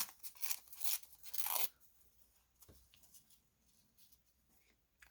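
A few quick crisp snips, like scissors cutting through paper, close by in the first couple of seconds, then near-quiet with faint rustling.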